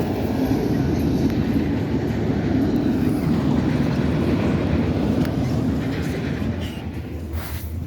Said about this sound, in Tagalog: It looks like it's an Autorack train.